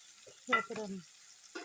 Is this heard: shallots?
yes